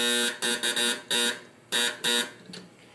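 An old clothes dryer's cycle buzzer sounds in a series of short harsh electronic bursts, some in quick pairs, followed by a fading tail.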